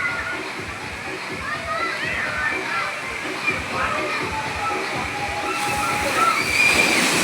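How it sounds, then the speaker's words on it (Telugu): A waterfall pours from above with steady rushing, sloshing water filling the scene, a constant broad roar, with a voice speaking over it. "అక్కడ పైనుంచి వాటర్ పడతాయి"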